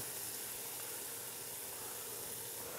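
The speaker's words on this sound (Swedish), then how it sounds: "medan den står och fräser lite sådär" Onion sizzling in a good knob of butter in a frying pan, a steady close hiss and crackle that holds evenly throughout with no talking.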